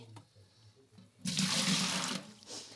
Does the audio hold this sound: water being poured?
yes